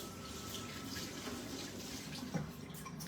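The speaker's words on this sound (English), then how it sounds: "So I'm gonna rinse my hands" Running tap water splashes steadily as hands are rinsed under a kitchen faucet, a continuous close hiss and spatter with small shifts as the hands move through the stream.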